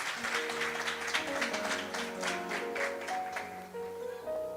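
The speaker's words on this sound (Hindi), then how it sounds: "हम परमेश्वर का जोरदार तालियों के साथ धन्यवाद देंगे" Church congregation applauding, dense rhythmic clapping from many hands over sustained organ-like musical tones, moderately loud and steady, with the music carrying on as the clapping continues.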